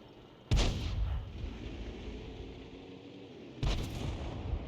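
Two booming artillery shots from a 105 leFH18B2 tank destroyer in an online tank battle game, each a sharp loud blast with a rumbling tail, the second about three seconds after the first.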